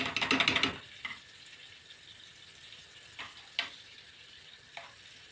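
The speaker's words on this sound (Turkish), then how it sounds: "Sonra üzerine salçamı ve nanemi ekleyeceğim. Salçam güzelce kavrulsun." Tomato paste and mint fry in melted butter, a short burst of loud sizzling and stirring at the start, then quiet background with a few faint ticks and scrapes.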